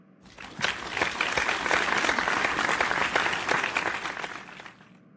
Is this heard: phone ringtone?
no